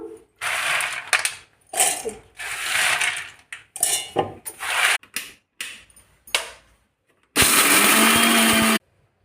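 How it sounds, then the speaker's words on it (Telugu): A kitchen mixer grinder runs in a series of short, loud whirring bursts separated by pauses, then one longer sustained grind. It is pulverizing peanuts and dry red chillies with roasted gram and tamarind into chutney powder. "ఇప్పుడు మిక్సీ పట్టుకుందాము మనము."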